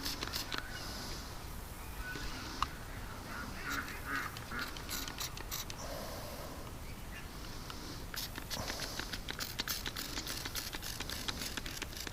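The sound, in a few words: duck quacking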